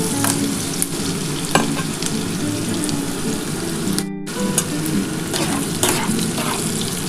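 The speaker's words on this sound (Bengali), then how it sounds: "বন্ধুরা দেখো, পেঁয়াজটা মোটামুটি আমার ভাজা হয়ে গেছে।" Onions fry steadily in a pan, giving a continuous close sizzle with occasional stirring scrapes. Midway there is a brief break in the sound before the frying resumes, with no talking.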